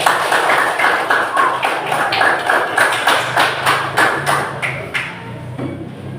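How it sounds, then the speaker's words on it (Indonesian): A room full of people at a group presentation session clapping steadily, a dense patter of hand claps with some louder thumps, continuous throughout. "Kasih tepuk tangan lagi"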